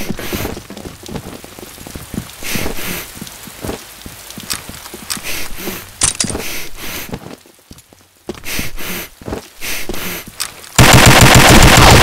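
World War II machine guns firing in a video game, rapid bursts of rattling automatic fire with short gaps and a brief lull, ending in a loud sustained burst.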